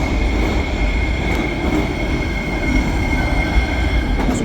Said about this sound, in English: So underground, these trains are incredibly loud.